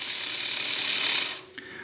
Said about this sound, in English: the motor is still spinning right now. You can hear it.